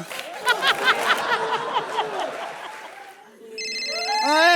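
A phone ringtone starts up as a melodic electronic tone, loud and close, after a stretch of soft chuckling.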